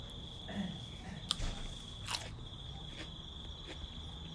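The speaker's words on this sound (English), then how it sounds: "nice bit of crunch, but not the firmest pod" Teeth crunch into a whole Orange Carbonero chili pepper pod, with two or three sharp, close crisp bites over a faint background hiss.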